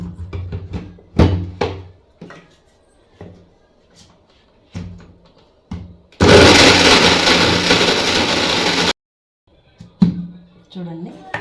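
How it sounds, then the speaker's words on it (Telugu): A mixie grinder blitzes sunnundalu mixture with jaggery in one loud, steady burst of about three seconds, set between bouts of speech and clatter from the kitchen. "అలా మిక్సీ పట్టుకుందాం."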